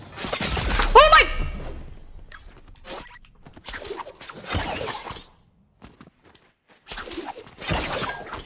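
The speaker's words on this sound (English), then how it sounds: "I literally cracked his shield!" A sharp glassy crack of an enemy shield breaking in Fortnite rings out once near the start, followed by scattered game effects and quieter gaps with bits of talk.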